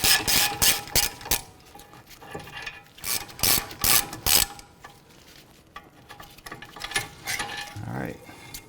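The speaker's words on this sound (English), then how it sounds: "So I did switch over to a regular ratchet right here." A hand ratchet loosens bolts on the front brakes of a 2010-2017 Chevy Equinox, giving bursts of rapid, close clicking pawl sounds separated by brief pauses, with faint metallic handling noises between.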